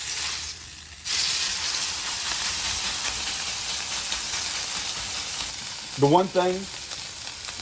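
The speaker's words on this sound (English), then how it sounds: "I'm gonna throw some of this beef tallow down" Beef tallow hitting a very hot Traeger Flatrock griddle, a loud sustained sizzle and hiss that flares sharply after a brief lull, with someone speaking briefly over it near the end.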